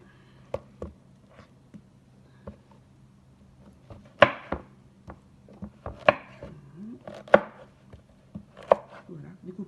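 A knife chops fresh fruit and ginger on a board for a detox juice. The chops are sharp and close, coming in an uneven rhythm with a few louder strikes and softer taps between them.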